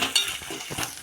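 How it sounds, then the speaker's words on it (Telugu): Ginger fries in hot oil for a tempering, giving a close, steady sizzle with light crackles and a stirring scrape. "అల్లం అయితే వేగింది"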